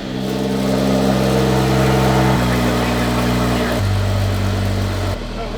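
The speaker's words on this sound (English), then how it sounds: "We're just about to start the car and see if it has an exhaust leak." A BMW E53 with a catless downpipe rumbles loudly at idle, its steady low engine note shifting in pitch a few times as it settles, close up with no talk over it.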